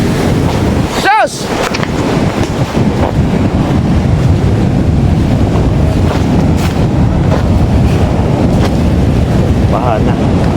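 Floodwater waves and gusting wind batter the area around a hut near a gate during a typhoon flood, a loud, steady, rushing roar filling the whole stretch with a brief whooshing sweep near the start.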